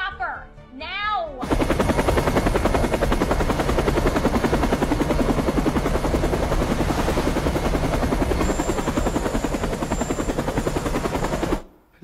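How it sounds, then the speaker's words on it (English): A helicopter's rotor beats in a steady, loud, fast chop for about ten seconds in an Indonesian action film, dominating the scene and fading out at the end, with brief voices and effects just before it. "I need a chopper."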